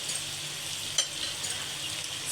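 Mixed vegetables, including potato, papaya, cauliflower, pointed gourd and beans, fry in hot oil with a soft, continuous sizzle and one small crackle partway through.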